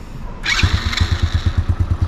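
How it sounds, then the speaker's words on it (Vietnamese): A customized Vietnamese-market Honda Dream motorcycle starts up close by, a brief whirring crank followed by the small engine catching into a steady, rapidly pulsing idle, with no voices present. "Đây, nổ máy lên cho anh em này."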